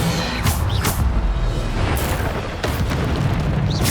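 Bombarda explosion spells cast in the Hogwarts Legacy video game: a run of loud, booming blasts, roughly five, fired in irregular succession, each a burst with a rumbling decay over a constant noisy combat background.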